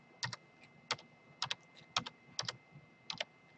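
A date is typed on a computer keyboard: about a dozen crisp, close keystrokes, mostly in quick pairs spaced roughly half a second apart, with no speech.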